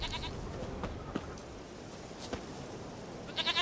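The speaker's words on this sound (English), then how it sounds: "Here, goat." Goat in The Witcher 3 game world, a few bleats heard at moderate distance over a constant ambient bed, with a sharper cluster of bleats at the very end.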